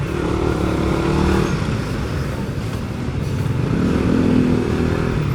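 A Suzuki Satria Pro motorcycle hums close by at low speed while it manoeuvres. The engine stays steady, rising in brief small revs over a background of road noise.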